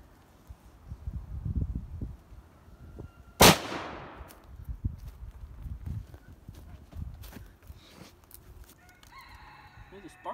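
One sharp, loud gunshot cracks out at a lawnmower engine outdoors, its burst fading quickly, with quieter scattered rustling and background noises before and after.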